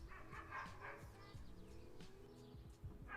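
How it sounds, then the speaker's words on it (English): A dog barks and yips a few times at a moderate distance, faint and muffled under a steady background hum. "Oh, that's such a cute dog."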